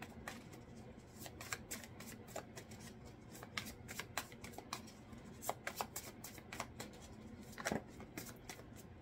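Tarot cards being shuffled for a reading, a soft close riffle of repeated quick card flicks and slaps in irregular bursts over a quiet room.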